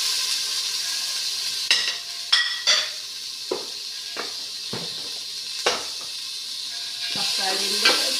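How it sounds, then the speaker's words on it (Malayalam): Tomatoes with salt frying in a pan for prawn biryani, sizzling steadily while a utensil scrapes and clinks against the pan in scattered strokes, close and fairly quiet with no talking. "തക്കാളിൻ്റെ പച്ചമണം മാറുന്നവരെ കുറച്ച് നേരം ഇളക്കുകയാണ്."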